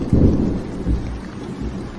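A thunderstorm with steady rain falling and deep rolling thunder rumbling close by, continuous and moderately loud with no voices.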